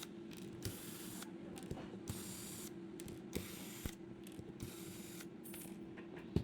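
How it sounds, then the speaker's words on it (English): Screws being backed out of the fan on a NEJE E80 laser engraver module, heard as close, light clicking and ratcheting taps scattered over a steady mechanical background hum, with no talking. "let's remove the 8 screws holding the fan in place"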